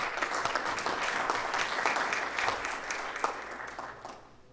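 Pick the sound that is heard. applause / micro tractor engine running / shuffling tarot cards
applause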